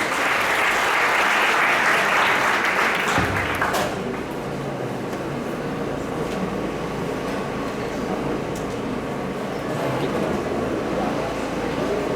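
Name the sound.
audience applause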